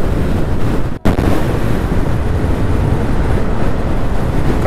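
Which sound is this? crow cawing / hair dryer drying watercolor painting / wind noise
wind noise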